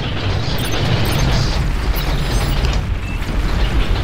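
Dense, continuous barrage of booming explosions from a large real-time strategy battle in the video game Beyond All Reason, loud and overlapping without a break.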